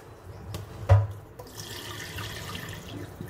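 Running water pours and splashes steadily into a vessel as sprouted ragi millet grains are rinsed, with a brief knock near the start.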